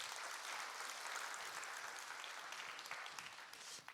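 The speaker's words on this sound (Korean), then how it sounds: "박수 한번 합시다" Audience applause in a church sanctuary, a dense, steady wash of many hands clapping that stays loud throughout and thins slightly near the end, with no voices over it.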